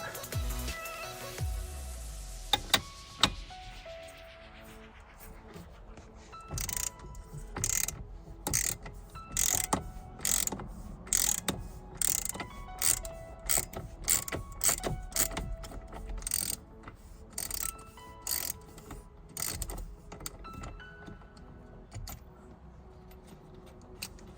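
A ratchet with a long 19mm socket loosens the steering wheel nut in a Nissan 370Z. It gives close, rapid bursts of mechanical clicking, repeated in quick strokes over the full stretch.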